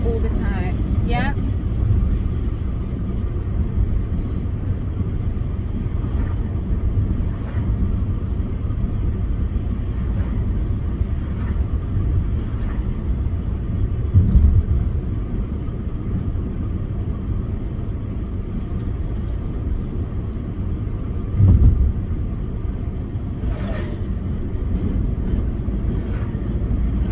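A car driving during a driving lesson, a steady low engine and road rumble heard from inside the cabin, with people talking over it.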